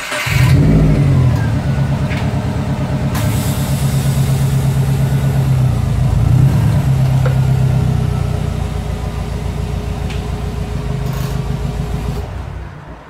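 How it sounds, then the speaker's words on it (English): A 2008-or-later Subaru Impreza rolls slowly backward off ramps after an oil change, its engine idling with a steady low rumble and light revving, close and loud throughout. "Skid plate back on, we can back it up slowly off of the ramps."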